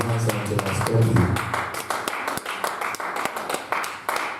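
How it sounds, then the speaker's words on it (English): Church congregation clapping hands together in a steady, even beat, crisp repeated claps, with a voice briefly heard at the beginning and a low hum of the hall beneath. "Clap your hands now."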